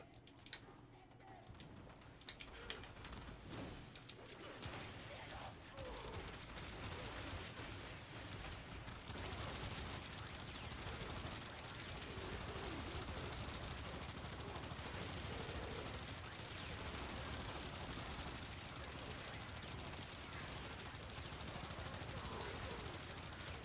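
Weapon fire from Harrow blasting enemies in Warframe runs as a dense, continuous wash of shots and explosions, with a voice talking over the steady combat din.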